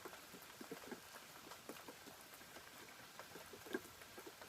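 Summer rain falls outside with a faint, steady patter and scattered soft drops, heard at a low level in the background with no one speaking.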